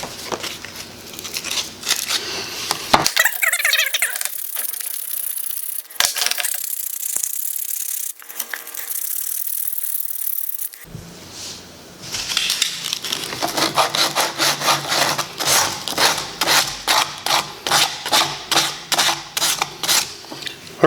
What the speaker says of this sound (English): We're going to go ahead and sand this first coat